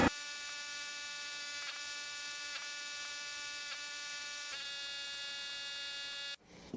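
A power mixer churns thick Dicor EPDM rubber roof coating for an RV roof. Its motor gives a steady, close, even whine with no talk, then cuts off abruptly near the end.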